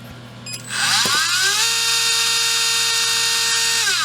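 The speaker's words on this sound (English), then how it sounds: "That motor's running really quiet." An RC brushless motor spins up on auto run after a brief click, then holds a smooth, steady high-pitched whine at close range, running quietly without wobble until the end.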